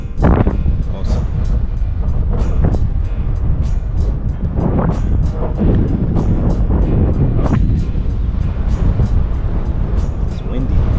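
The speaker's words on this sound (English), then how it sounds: "You can hear the wind with it too." Outdoor wind on the path to Kemet, buffeting the microphone in a loud, continuous roar with gusty swells and rumbling low-end turbulence throughout, no voices.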